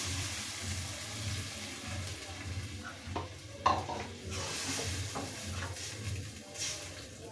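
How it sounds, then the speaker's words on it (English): Water goes into a pan of frying tilapia for a coconut fish dish, making a soft sizzle, bubbling and stirring scrapes against the pan, fairly quiet and close. "I'm gonna add in a bit of all this water."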